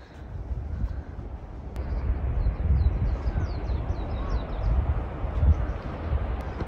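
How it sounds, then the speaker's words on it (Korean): Gull-like seagull calls sound repeatedly over loud, rumbling surf and wind on the seashore at Gwaneumdo, Ulleung Island, South Korea. No one is speaking. "너는 갈매기니?"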